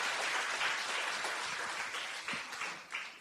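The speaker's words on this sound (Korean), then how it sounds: "이해한다는 의미에서 박수 한번 쳐주세요." An audience gathered for a philosophy professor's talk to lawmakers claps together, a dense sustained wash of applause that tapers slightly toward the end, with no speech over it.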